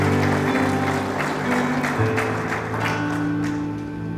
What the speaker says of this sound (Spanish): Aplauda a Cristo por lo menos.